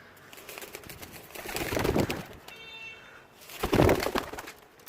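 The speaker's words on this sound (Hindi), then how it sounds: "ये कबूतर चेक करें, रैम्बो कबूतर है।" Two soft bursts of pigeon cooing, about two seconds apart, close by with light background noise and no talking.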